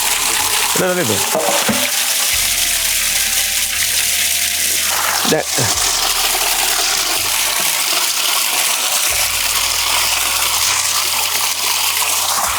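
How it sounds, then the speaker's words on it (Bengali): Rohu fish pieces are washed in water, with splashing and sloshing near at hand and a steady running-water hiss throughout. "মাছ এখন ধুবো পরিষ্কার করবো"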